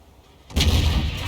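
An artillery gun in a tank video game fires a single heavy boom that cuts in abruptly after a quiet moment and rolls on as a loud, deep blast.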